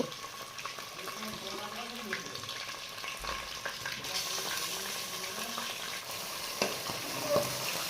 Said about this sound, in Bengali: পুরো মাংসটা দিয়ে মাংসটা প্রথমে একটু কষিয়ে নেবে বা হাত দিয়ে একটু নাড়িয়ে নেবে